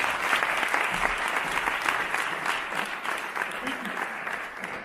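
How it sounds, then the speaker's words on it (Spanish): A conference audience at a talk on the future of food brands claps warmly for Félix, a dense, sustained round of applause from a full room, with some voices faintly mixed in. "Un fuerte aplauso, Félix"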